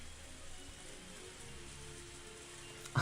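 Steady rain pattering on a surface in the Higurashi visual novel game, a soft continuous wash with faint tones beneath and a brief louder knock at the end.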